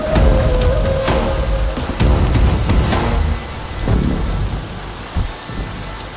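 Heavy rain pours steadily while thunder rolls and rumbles through, with a sharper crack near the end, in a movie scene.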